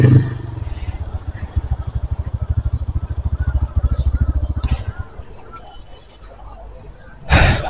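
A motorcycle engine idles with a rapid, pulsing putter that cuts out midway as the bike is parked, followed by quiet background and a short burst of noise at the end.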